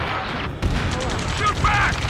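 Gunfire crackles in the middle of an Ace Combat 7 mission, a dense spread of shots and bursts layered over battle noise, with voices shouting over the fighting.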